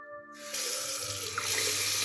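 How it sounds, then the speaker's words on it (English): A tap opens and water gushes steadily into a sink in a loft en suite, while a low mechanical hum from a running pump supplying pumped pressure sits underneath the flow. "you can hear the pump in the background"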